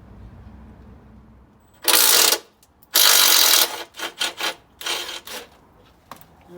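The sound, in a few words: ratchet driver on bolt, Ford Focus steering rack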